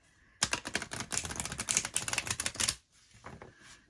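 Close, crisp rapid flutter of a 50-card Midnight Oracle gothic oracle deck being riffled for about two seconds, followed by a quieter softer patter as the deck settles.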